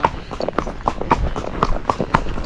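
A ridden Tennessee Walking Horse moves along a road, its hooves striking in a quick, even clip-clop rhythm, close and clear with no talking.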